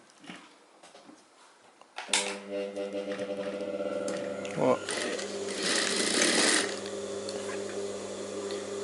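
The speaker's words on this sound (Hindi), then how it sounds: "इसको यहाँ से मोड़ के आधा इंच दूरी पे सिलाई लगानी है" A sewing machine stitches a folded fabric strip for a high neck blouse, starting abruptly after a quiet moment and running in a steady, close mechanical whir with a brief knock partway through, while a person speaks over it.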